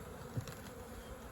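Honeybees buzz around an opened backyard hive as the hive body is set back down, a steady low drone with one brief louder burst close by.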